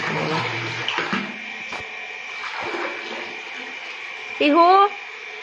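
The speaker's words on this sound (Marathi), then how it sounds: "हे बघा नळ आले इकडं तर मोटर लावली आम्ही मोटर लावली तेव्हाच पाणी येते" Tap water runs steadily from a motor-pumped household supply, a continuous close hiss with a faint constant whine. Brief voices and clatter sound over it, and a short rising whistle-like tone comes near the end.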